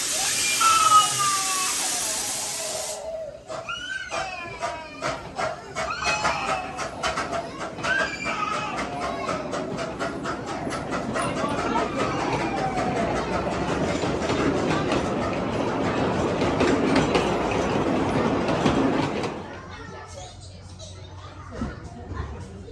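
A miniature railway train at Eastleigh Lakeside Railway rumbles along steadily with rhythmic clicking over rail joints and a rising roar, passing close before fading, with birdsong and brief voices at the start.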